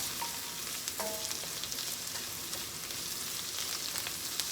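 Crawfish and corn maque choux cooking in a pan, a steady, close sizzle and crackle of frying with faint stirring scrapes, continuous and without talk.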